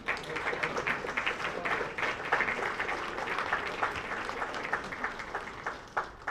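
Applause at an athletic banquet as the women players stand to be recognized; sustained, moderately distant clapping from a large room with a few sharper individual claps.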